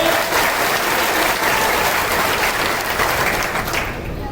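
Loud, dense applause from a large crowd gathered for a community address in Karera, steady clapping filling the whole stretch and tapering slightly at the end.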